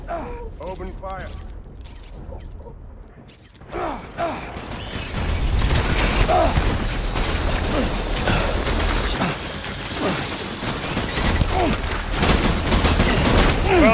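Rapid automatic gunfire erupts in the video game Death Stranding, loud, dense bursts filling the second half after a quieter stretch, with someone talking over the shooting.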